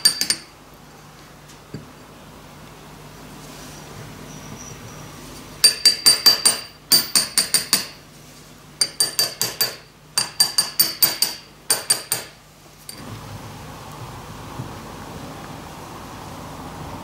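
Metal casting pattern, single-sided, rapped loose from a sand mold: bursts of sharp, rapid metallic taps in clusters, close and crisp, separated by short pauses over a quiet background.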